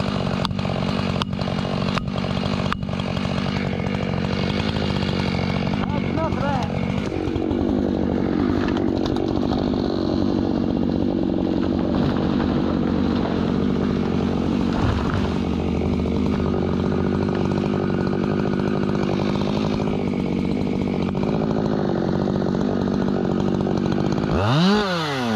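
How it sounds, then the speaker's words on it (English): A chainsaw fitted with chisel chain cuts through a cherry tree being felled in the woods, a loud, continuous engine snarl close by that shifts slightly in pitch as the bar bites, with no talking. "that round tooth chain's kind of hard on the saw. That's one thing about chisel chain. It is softer on the saw."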